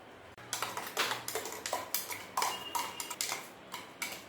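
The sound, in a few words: mixing chicken marinade with vinegar and salt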